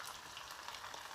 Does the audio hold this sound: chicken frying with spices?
yes